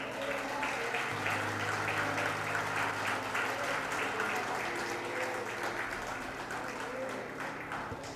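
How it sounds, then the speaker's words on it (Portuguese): A church congregation applauds the Lord during a Brazilian Bible study service, steady massed clapping running throughout with a sustained low tone, likely music or organ, underneath. "Pode aplaudir ao Senhor"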